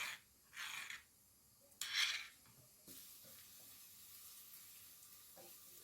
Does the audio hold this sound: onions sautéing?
yes